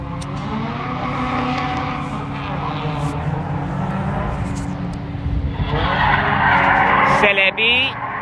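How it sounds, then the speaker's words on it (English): Nissan S15 drift car, likely running an SR20 engine, skids through a long continuous tire squeal with a steady engine roar during drift practice, building louder near the end. "the S15, probably rocking an SR20 from the sound of it"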